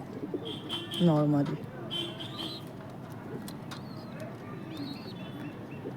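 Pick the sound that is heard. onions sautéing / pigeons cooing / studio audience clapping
pigeons cooing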